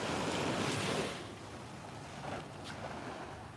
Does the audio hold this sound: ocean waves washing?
yes